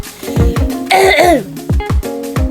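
A woman still sick with a lingering cough produces a close, loud series of short hacking coughs and throat clearing, with a strained voiced rasp in the middle.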